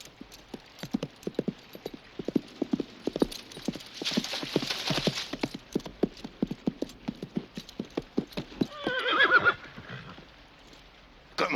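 A ridden horse's hooves clip-clop in a steady, even walking rhythm, moderately close, with a brief neigh near the end.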